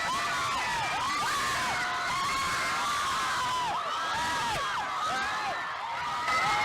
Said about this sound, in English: People cheering, dancing. This is some rave or, one of those festivals.